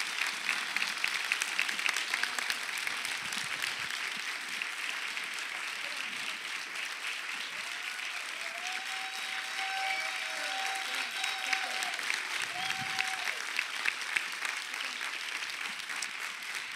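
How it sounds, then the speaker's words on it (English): A church congregation claps steadily to honor military veterans, a sustained, even round of applause lasting well over fifteen seconds with no one speaking over it. "Let's give them a round of applause."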